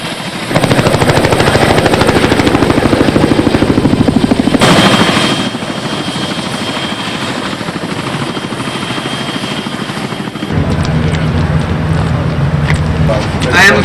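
Loud, steady helicopter rotor and engine roar fills the whole stretch as guarded detainees rush out during a military urban warfare exercise, shifting in tone partway through, with voices faintly mixed in.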